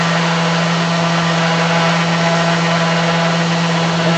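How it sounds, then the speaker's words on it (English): An orbital sander whines loudly and steadily on metal set into wood, a constant motorized drone with a low hum, running nonstop close by. "I'm just going to use an orbital sander."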